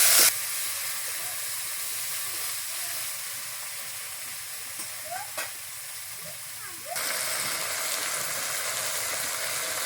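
Ground ginger, garlic, green chilli and cumin paste sizzles in a pan of browned onions. The frying hiss holds steady and moderately loud, then swells into a stronger burst near the end.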